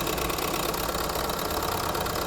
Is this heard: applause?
no